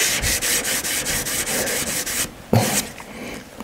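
A piece of metal rubbed flat on emery paper in goldsmith training, about a dozen quick rhythmic scraping strokes, close and fairly loud, then a pause and one last stroke.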